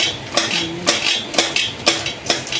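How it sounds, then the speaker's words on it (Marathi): Okra being cut with a knife on a board makes a series of sharp, evenly spaced chopping knocks, close and fairly loud, about six strokes with brief ringing between them and no talking. "तर पूर्ण सगळी भेंडी कट करून घेऊया"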